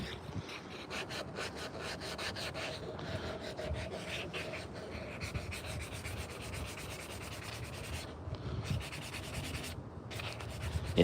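A hand-carved wooden pocket spoon is sanded in steady back-and-forth strokes, a close, soft, rhythmic rasping scrape that continues evenly with brief pauses and no talking.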